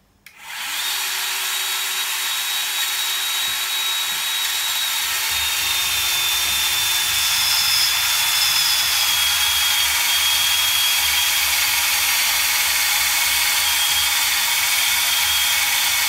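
A power saw cutting through 50 mm metal stock while building an anvil, a steady loud sustained whine and grinding roar that starts abruptly and runs unbroken for the whole stretch, close to the listener with no talk.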